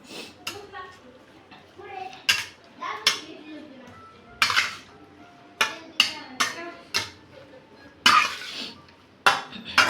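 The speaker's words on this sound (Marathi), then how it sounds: "आणि आता या पिळलेल्या शेंगामध्ये त्याला मिक्स करून घेणार आहे." Ground masala being mixed into squeezed beans in a bowl: a series of sharp, close clinks and knocks of a utensil against the bowl, coming in irregular bursts over a low background murmur.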